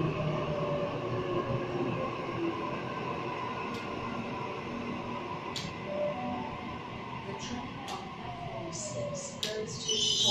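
A Sydney train on the Hornsby service pulls out of a station on the Epping to Chatswood line: a steady, loud rolling rumble that builds through the whole stretch, with a few sharp high squeals or clicks near the end and voices in the background.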